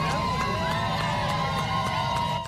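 A large crowd cheers and whoops continuously at a homecoming welcome in Mount Sterling, a dense, loud roar of many voices with shouts and children's cries rising over it.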